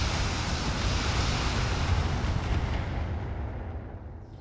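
Sustained roaring barrage of weapons fire in a video game raid, a dense continuous rumble of shots and blasts that stays loud throughout and fades slightly at the end.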